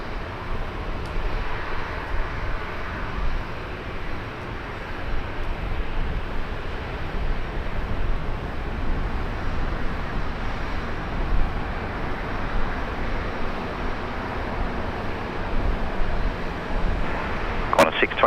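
A Qantas airliner lining up on runway 19 right at Brisbane International Airport, heard as a steady distant engine rumble and broadband roar that holds evenly for the whole stretch without clear peaks.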